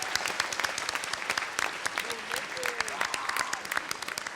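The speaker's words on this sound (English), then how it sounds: "So let's all give one last huge round of applause for our performers here today who took the time." Audience applause for performers at a Chinese New Year show, steady dense clapping from a crowd throughout, with a voice talking faintly over it.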